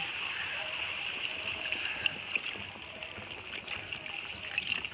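Water is poured into an egg and jackfruit curry cooking in a pan, making a soft, faint trickle and splash with small irregular spatters over a low background hiss.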